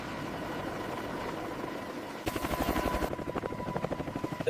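An AH-1Z Viper attack helicopter takes off from a field location, its engine droning steadily before the rotor chop swells into a loud, rapid pulsing beat.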